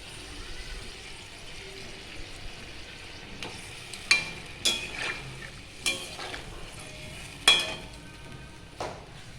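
Koi fish sizzle and fry steadily in a hot pan, a continuous crackling hiss broken by several sharp spattering pops and a few scraping stirs near the mic.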